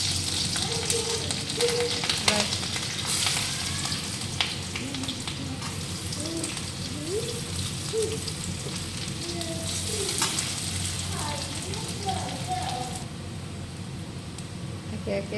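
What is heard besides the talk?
frying vegetables with chopped chillies in pan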